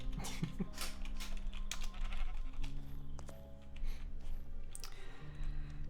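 A few short sheep bleats in a Minecraft-style block video game, sounding near the start amid a steady game background of low tones and clicks.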